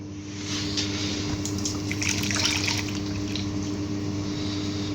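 Liquid yeast mixture poured for pink heart-shaped Valentine's pizza dough, a steady close trickle of water with faint dripping running for several seconds after a quiet start, with a constant low hum underneath.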